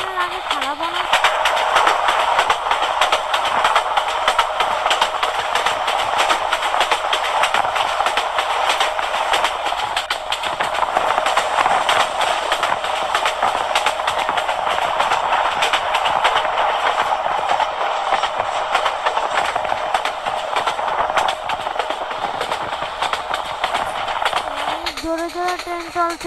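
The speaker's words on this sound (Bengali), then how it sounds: "জোরে জোরে ট্রেন চলছে।" Subarna Express train running fast in a Bangladesh train simulator game: a steady, loud rolling rumble with faint rhythmic wheel clatter that carries on without a break, and a horn-like tone near the end.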